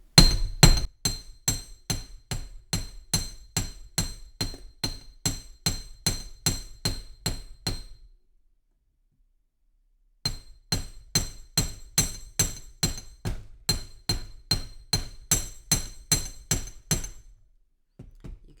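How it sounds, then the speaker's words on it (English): Rapid, evenly spaced hammer taps on three metal wire rings ring out close by in two long runs, separated by a few seconds of silence; no one speaks. "You can see I'm hammering all 3 rings at the same time."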